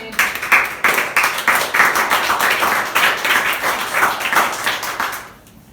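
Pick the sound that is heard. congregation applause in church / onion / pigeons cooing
congregation applause in church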